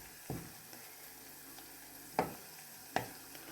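Garlic fries in a pot of oil over low heat, giving a faint, steady sizzle broken by three louder clinks or stirring knocks, and nobody speaks.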